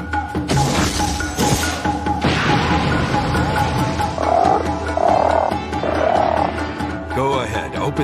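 Summoned toads in a Naruto anime scene croak in three loud, close bursts in the second half, following a noisy stretch of clattering, thudding sound effects.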